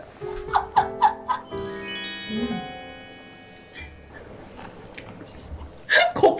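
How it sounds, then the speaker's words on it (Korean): Soft crunchy chewing of dried green onion soup flakes and biting clicks come in short bursts close up, with a brief musical chime in the middle and faint voices nearby. "파 건더기 수프 씹는 소리."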